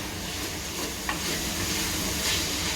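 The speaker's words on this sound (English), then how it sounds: "Give it a good stir." Steady stirring of salted water in a pot, a continuous hissing wash with a faint clink of the spoon partway through.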